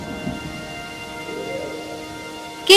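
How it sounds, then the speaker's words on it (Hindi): Heavy rain pours steadily under a thunderstorm at a pond's edge, a dense continuous hiss with no voices, ending in a sudden loud burst. "ये बारिश तो बहुत तेज हो रही है"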